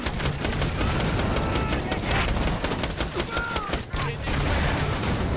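Dense, continuous gunfire from shooting at canisters in the video game Borderlands: The Pre-Sequel, a loud unbroken barrage of rapid shots with a brief lull near the end, with speech mixed in.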